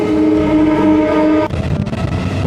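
Suburban passenger train leaving Dum Dum station toward Halisahar, a loud sustained horn blast for about a second and a half, then the rumble and rattle of the moving train.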